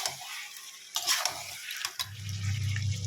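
Chicken and mixed vegetables fry with spices in a pan while being stirred, a soft steady sizzle broken by scraping stirs and a few clinks of the spoon against the pot, up close with no voices.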